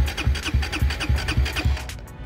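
A modified racing motorcycle engine cranks with a rapid series of loud, rhythmic starter chugs, about eight pulses, without catching, close and mechanical.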